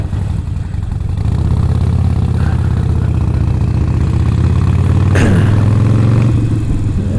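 Harley-Davidson Forty Eight motorcycle engine and exhaust, a steady deep low rumble that builds as the bike pulls away, loud and close, with a brief rising rev midway.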